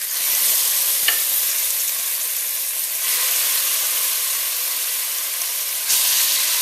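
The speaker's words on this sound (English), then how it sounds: "be careful when you're adding the chicken pieces to the pot because it can splatter back at you" Chicken pieces for Caribbean stew chicken fry loudly in a pot with a steady, hissing sizzle and a couple of brief clinks, close and uninterrupted.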